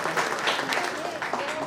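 An audience at a felicitation ceremony gives sustained, dense applause that holds steady and fairly loud throughout.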